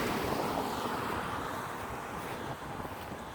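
Water pours steadily away down a drain outdoors with a continuous broad rushing wash, fairly close and unbroken throughout.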